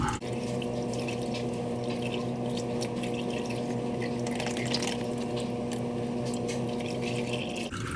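Engine oil pours from the drain of a 2009 Scion xD in a steady, continuous liquid stream. The sound stays close and unbroken throughout, with no voices.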